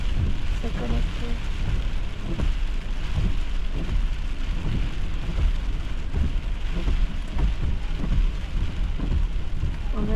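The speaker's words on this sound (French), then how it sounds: "On a dit la petite grêle qui tombe." Small hail patters steadily on surfaces during a spring thunderstorm in southern Quebec. A continuous, close, crackling wash of impacts runs over a low rumbling background.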